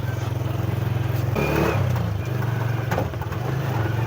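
A motorcycle engine runs steadily up close, a low, even throb that surges briefly louder partway through before settling back, with faint background noise.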